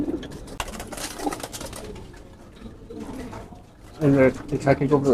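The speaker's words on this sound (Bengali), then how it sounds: "এটা খাকি কবুতর" Khaki racing pigeons that have flown three races coo in soft, low bursts, louder and clearer near the end, while people talk nearby.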